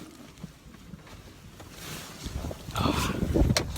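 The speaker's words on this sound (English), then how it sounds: "Hear that wind?" Strong wind gusts during a Vermont blizzard, roaring and buffeting the microphone, building from a low rush into louder, closer blasts near the end.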